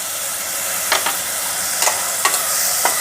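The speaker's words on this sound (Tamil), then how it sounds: "இப்போ தக்காளி நல்லா வதங்கிருச்சு." Tomatoes with ginger-garlic paste and salt sizzle steadily in a pan as a spoon stirs them, producing a few sharp scraping clicks over a constant frying hiss.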